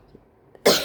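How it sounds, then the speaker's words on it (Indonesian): A single harsh cough bursts out after a quiet pause, close and loud, from someone with a bad cough. "soalnya aku lagi batuk parah gitu."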